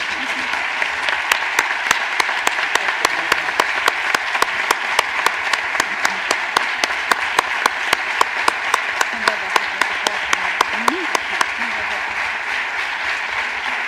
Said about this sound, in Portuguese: eles merecem uma grande salva de palmas